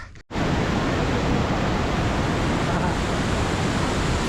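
Powerful waterfall in Sapa carrying a heavy flow of water, a loud, steady broadband roar after a brief dip at the start.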